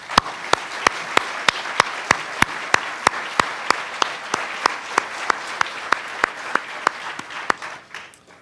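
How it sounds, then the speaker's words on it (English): Clapping at an elementary school awards ceremony comes as sharp, evenly spaced claps in a steady rhythm over a soft crowd murmur, lasting several seconds before tapering off. "One final round of applause, please, for this group."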